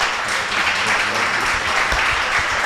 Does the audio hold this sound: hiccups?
no